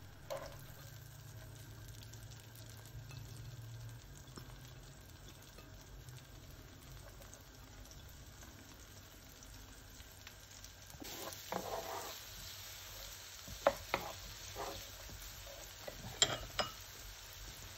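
Onions fry in oil with a faint, steady sizzle in a quiet kitchen. A few soft clinks and stirring sounds come in over the second half.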